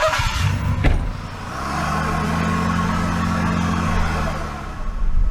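A vehicle rumbles out through a Nebraska ranch pasture, its engine near and loud in a steady drive after a brief clunk, running on without any talk.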